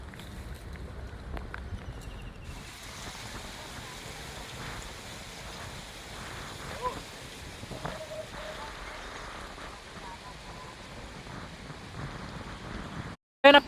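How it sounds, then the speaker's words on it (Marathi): Steady rain falling outdoors in the evening at a crab-catching spot, a soft continuous patter on surfaces with scattered faint knocks, lasting throughout at moderate distance before a brief break near the end. "पाऊस पण यायला लागलाय"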